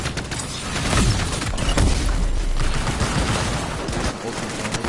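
Shards are rapid-fired in a video game, a dense stream of crackling, burst-like shots layered close together with booming impacts, continuous and loud.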